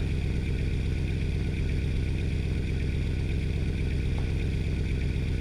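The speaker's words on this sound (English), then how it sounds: "Mercedes open pipe mod does make the engine sound a little louder in the cabin" A Mercedes truck engine fitted with an open pipe exhaust mod in Euro Truck Simulator 2 drones steadily from inside the cabin, a loud continuous low rumble with no break in tone.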